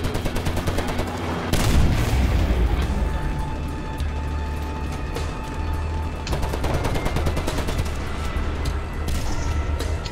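Sustained rapid anti-aircraft machine-gun fire in a video game rattles on continuously, loud and dense, with heavier booms mixed in.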